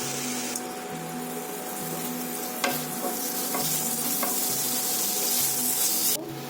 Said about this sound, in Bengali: 2 থেকে 3 মিনিট আমি ভালো করে মশলাগুলোকে কষিয়ে নেব।